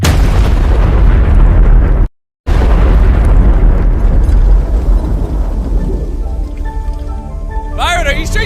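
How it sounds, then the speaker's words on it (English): A rigged bomb loaded with pyrotechnic fuel detonates in a loud, sustained roaring blast that slowly decays into rumbling fire noise, with high whistling pops from burning debris near the end. "Using our last bit of spare fuel, the pyrotechnics quickly re-rigged the bomb."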